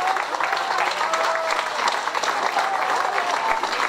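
Spectators at a kayak world championship ceremony applaud the champions, a steady, loud wash of clapping with crowd noise throughout.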